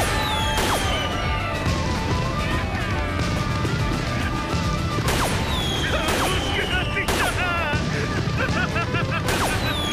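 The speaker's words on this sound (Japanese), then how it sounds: "さあその花火を打ち上げて。" Fireworks launch in an anime festival scene: repeated sharp bangs and crackling bursts over a dense, busy backdrop.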